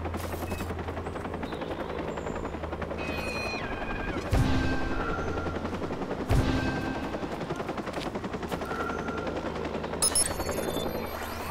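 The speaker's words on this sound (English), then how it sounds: "Gotta get rid of that helicopter at some point, or somehow" Helicopter rotor thrum in the Watch Dogs video game, steady throughout and mixed with bursts of machine-gun fire and a couple of louder impacts.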